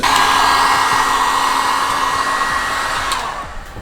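A heat gun blows steadily and loudly on the glue sealing a Tesla headlight, a constant airy roar with a faint hum, easing slightly near the end.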